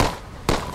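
A rocket launcher fires in the Pandemic Express video game, heard as a sharp, loud blast and crackle, followed by a second burst about half a second later.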